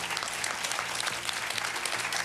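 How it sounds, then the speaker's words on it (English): An audience at a live talk on psychics gives a round of applause, dense and steady clapping from a fair-sized crowd throughout. "Give her a round of applause right here."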